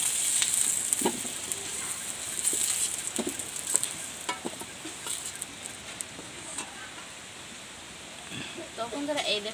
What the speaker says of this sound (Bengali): আমি কিন্তু একদম হালকা করে ভেজে নিলাম আলুগুলোকে।